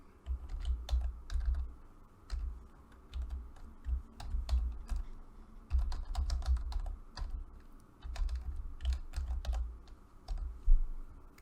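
Someone types a greeting-card message on a computer keyboard in Photoshop, a close run of quick key clacks in bursts with short pauses and no talking.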